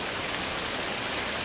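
Heavy rain pours down steadily during a storm on the hike to Wairere Falls in the Kaimai Range, a dense continuous hiss with no voices over it.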